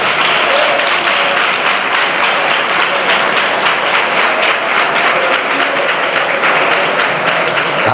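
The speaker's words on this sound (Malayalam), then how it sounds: "ശക്തിയോടെ കൈയടിച്ച് വാതുറന്ന് ആത്മാവിൽ ദൈവത്തെ ആരാധിച്ച്" During a fasting prayer service, a church congregation claps loudly and steadily together in a dense, continuous wash of applause that fills the room without pause.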